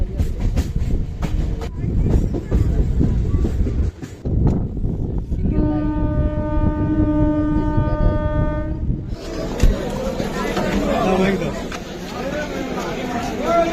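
Local train running from Lakshmikantapur to Kakdwip, with loud rumbling wheels and carriage noise, a long sustained horn blast midway, then rattling travel as passengers chatter in the background.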